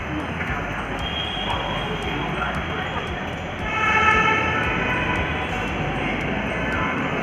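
Ambience at Karkardooma metro station in New Delhi, a steady dense rumble and crowd hubbub with a swelling tonal whine partway through, like a train moving along the platform.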